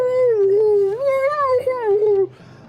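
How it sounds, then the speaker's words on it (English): A wolf in the video game Zelda Twilight Princess lets out a loud, close, wavering howl that rises and falls over about two seconds before cutting off. "it's a wolf howling, but it's not as satisfying"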